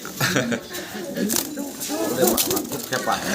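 Close coos and throaty burbles come from a pair of colourful Golla pigeons in a loft. Someone talks over them throughout, and the cooing weaves between his words.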